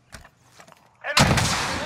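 Sudden burst of loud, dense gunfire from a Warzone match erupts after a quieter stretch of faint game noise and distant pops, sustained and close through the end.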